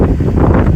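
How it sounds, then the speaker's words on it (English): Heavy wind buffets the microphone, a loud, low, rumbling roar that pulses unevenly for a brief moment. "Sorry about the wind in the background, a bit windy today."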